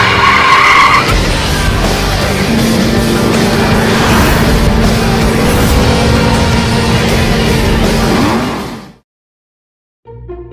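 A car skids with its tires squealing loudly and continuously for about nine seconds, then cuts to near silence before a brief faint sound at the end.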